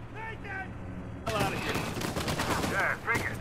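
Gunfire in the video game Uncharted, a sudden burst of rapid overlapping shots and automatic fire starting partway through and continuing loudly, with a voice talking over it at the start and again near the end.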